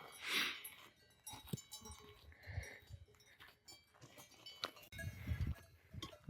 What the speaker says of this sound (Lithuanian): ir daugiau karvių sutikom.